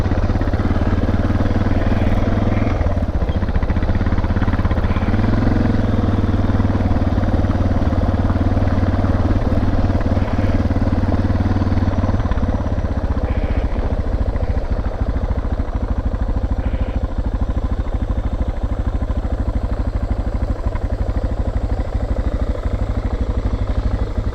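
A dual sport motorcycle idles loudly and close after stalling, its low engine rumble and mechanical clatter running steadily, with a slight shift in tone partway through.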